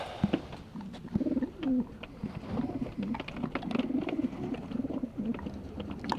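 Racing pigeons coo close by in repeated soft rolling phrases, with occasional wing flutters and small knocks, and no talk.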